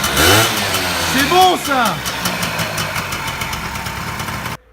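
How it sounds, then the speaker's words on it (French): A restarted Peugeot SV 80 scooter engine, long unused, running with a loud buzzing two-stroke note that rises and falls with throttle blips early on, then settles into a steady idle that cuts off at the end; someone speaks briefly over it. "Redémarrer un scooter qui a pas démarré depuis je sais pas combien d'années. Il est parti."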